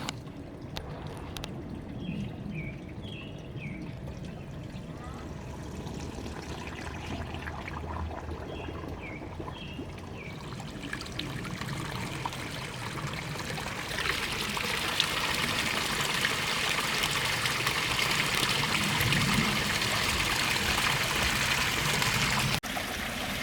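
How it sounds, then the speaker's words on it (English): Water pours and trickles steadily into a koi pond, a continuous rushing wash that swells louder and brighter partway through, with faint bird chirps early on. "We have water being filled, and then eventually the waterfall will be"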